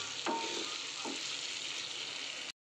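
Chili paneer ingredients being mixed in a hot pan, an even sizzle with two short spoon scrapes early on, then an abrupt cutoff into silence; nobody speaks.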